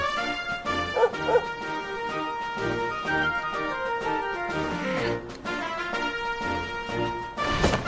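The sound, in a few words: dog barking in the video game Dragon Quest XI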